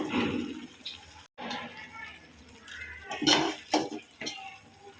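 Potatoes are dropped into bubbling poori masala in a pot, with a metal ladle clinking and scraping against the vessel in several sharp knocks amid soft simmering, while a person talks throughout.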